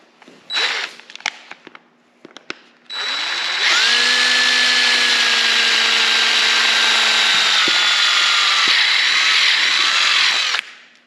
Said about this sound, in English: to know when you're done drilling is just when you can clear the socket